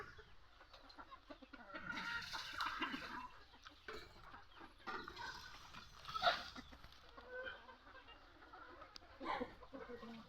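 Several chickens cluck and murmur close by in a busy, noisy outdoor setting, with occasional sharper calls rising over a steady background.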